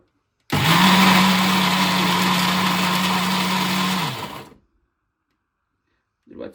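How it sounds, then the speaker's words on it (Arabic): A kitchen blender grinds falafel (ta'meya) mixture with a little added water, a loud, steady motor whir running for about four seconds before winding down and cutting off. "نشوف الخلاط يلف معانا ان شاء الله بسرعه"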